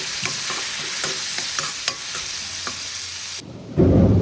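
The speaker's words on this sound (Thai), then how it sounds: "ผัดลูกชิ้นปลาให้เข้ากัน เติมน้ำเปล่าเล็กน้อย แล้วก็ผัดต่อค่ะ" Fish balls stir-fried in a pan with a splash of water, a continuous sizzle with regular spatula scrapes, then a sudden louder burst of hissing near the end as the water hits, close by with no talk.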